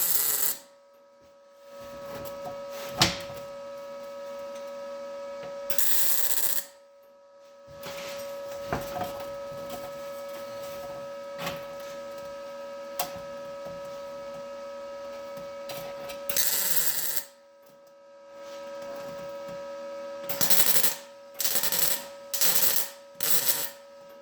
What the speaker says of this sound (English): I'm just going to go ahead now and start welding that on there